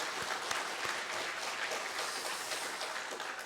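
Congregation applauding during a Sunday morning church service, a steady dense wash of clapping from many hands throughout, moderately loud and unbroken.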